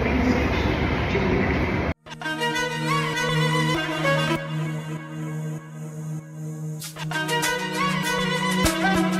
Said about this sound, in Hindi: मेट्रो ट्रेन जो यहाँ चल रही है।